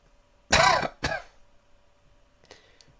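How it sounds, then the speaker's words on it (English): A person gives a sharp throat-clearing cough, two quick loud bursts close to the mic, followed by a faint smaller rasp a moment later. "just coughed all over myself"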